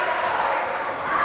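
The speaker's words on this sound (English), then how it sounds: "Oh, you hear the crowd as John Noble popped up right there." A wrestling arena crowd roars as wrestler John Noble gets back to his feet, a dense sustained cheer filling the hall at steady loudness throughout the brief moment.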